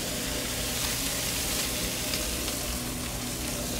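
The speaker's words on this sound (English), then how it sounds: "Let's go ahead and start toasting the bagel." A bagel toasts on a hot Blackstone griddle, giving a loud, steady sizzle and crackle that holds without a break, close up and with no talk.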